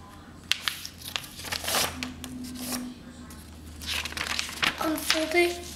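A sheet of paper is folded in half for a paper airplane, giving brief crinkling and creasing rustles in bursts, with a few sharp handling clicks, heard close and fairly quiet.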